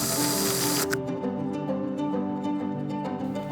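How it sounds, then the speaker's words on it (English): A steady pressurized hiss of spray foam, applied to attach pieces in a betta fish aquarium build, runs close and continuous, then cuts off abruptly, leaving a low background hum. "The best way to attach them is using spray foam."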